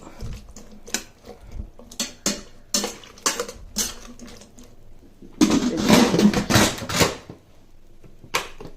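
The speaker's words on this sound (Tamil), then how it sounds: "இப்போ இது எல்லாத்தையும் நல்லா கலரிட்டு மூடி போட்டு குக்கரில் மூடிட்டு ஒரு 10 நிமிஷம் வேகட்டும்" A pressure cooker holding sorakkai kootu with chana dal and moong dal is closed with its lid. Several close metallic clanks and taps come first, then a louder cluster of rattling clatter, with no talk.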